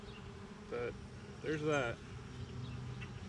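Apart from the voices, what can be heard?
bees buzzing around a hive from a swarm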